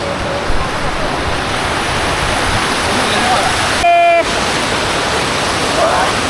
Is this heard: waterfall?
yes